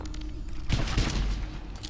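Grenade explodes in ADACA Zone Patrol, a heavy, booming blast with a rumbling low tail that swells after a quieter lead-in and lingers for about a second.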